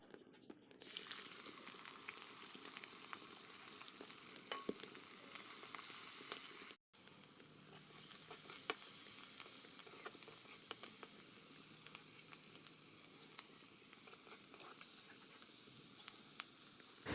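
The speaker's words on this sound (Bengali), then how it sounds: "নুন হলুদ মাখানো চিংড়ি মাছগুলো ভালো করে ভেজে নেব।" Turmeric-and-salt-coated prawns frying in mustard oil in a hot wok, a steady close sizzle with small pops and crackles, briefly cut off once, then continuing evenly; no speech.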